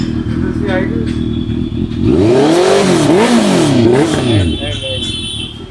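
A motorcycle fitted with an aftermarket exhaust in a Karol Bagh, Delhi bike accessories shop idles, then revs hard several times in rising and falling sweeps, loud and close, while a man briefly exclaims over it.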